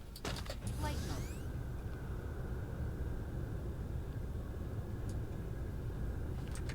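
Low, steady engine rumble of a mecha in flight mode from Dyson Sphere Program fills the clip at constant loudness, with a brief rising whoosh near the start and faint chimes later.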